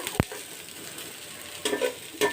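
Chopped garlic and onion fry in a pan with cumin and dried chillies, a soft sizzle broken by a sharp clink and a few louder bursts of stirring near the end.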